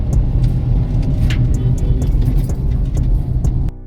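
A Renault Triber RXT compact car, freshly serviced after 20,000 km, drives along with a steady low engine rumble and road noise from inside the cabin, continuous and loud until it drops off abruptly at the end.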